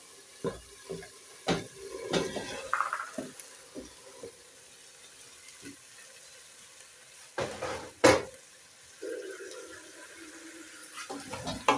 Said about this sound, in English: Let us stir and mix.